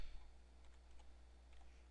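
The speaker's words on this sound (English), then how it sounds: "then we'll type in" A computer keyboard being typed on to enter a web address, producing faint, quick clicks over a low steady hum, with no voices.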